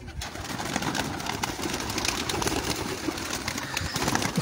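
Pigeons in a fancier's loft coo softly amid steady rustling and shuffling, a close, continuous bird murmur with no voices over it.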